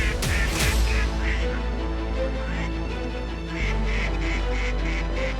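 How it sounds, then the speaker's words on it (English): Ducks calling from every direction at sunrise on a Nebraska duck hunt, a dense, continuous chorus of quacks and honks that stays loud throughout. "here come the ducks. We can hear them from every direction"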